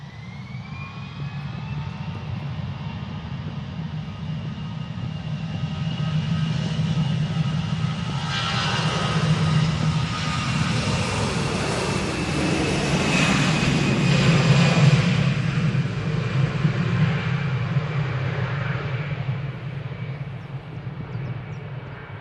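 An orange easyJet airliner taxis and departs from Manchester Airport bound for Athens, its steady engine roar swelling through the middle and holding loud and broad to the end, with no talk over it.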